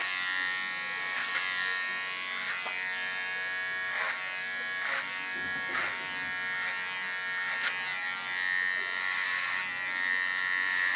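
Electric hair clippers buzz steadily over a clipper comb while cutting a short punky pixie haircut, a close continuous hum broken by brief rhythmic clicks of the comb passes.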